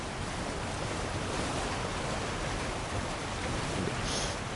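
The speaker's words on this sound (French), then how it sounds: "Est-ce que je peux aller derrière la cascade?" Waterfall in Elden Ring, a constant dense roar of rushing water that stays loud and steady throughout with no other sounds.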